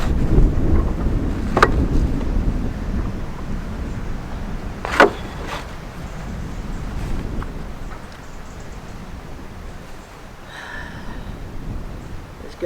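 Strong wind blows across the roof of an off-grid earthbag building with a steady, rumbling roar and buffeting gusts against the microphone, plus a few sharp knocks, loud and close.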